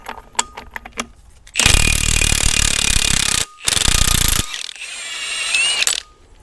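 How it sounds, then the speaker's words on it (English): Impact wrench rattling out flywheel bolts on a Caterpillar RD-6 engine, loud hammering bursts near the mic, a short pause between runs, then a quieter trailing rattle. "it's just easier to rattle them with the impact than it is to try to keep the flywheel from spinning"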